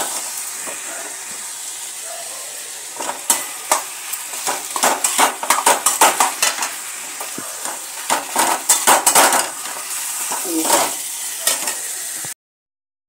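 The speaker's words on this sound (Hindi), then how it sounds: "अब मैं इसमें ये बैंगन डाल देती हूँ जो मेरा उबला हुआ रखा था, और ये आलू, इन दोनों को मैंने मिक्स कर दिया।" Boiled eggplant and potato get stirred into hot chillies in a pan for Indian baingan aloo bharta, producing a steady sizzle with a run of close, rhythmic scraping and clinking of a spoon against the pan.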